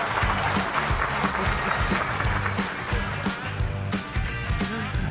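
Steady applause from a live-broadcast crowd at a charity stream event, dense clapping that fills the whole stretch at an even level with a low hum and faint background voices underneath.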